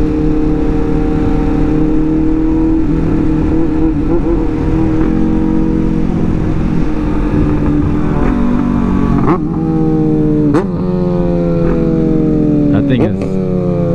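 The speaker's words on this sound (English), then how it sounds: "I wanted to hear his new exhaust," A Yamaha R6 motorcycle fitted with a new, loud exhaust runs close by with a constant heavy engine roar. Toward the end it gives a few sharp revs and shifts, and people talk over the noise.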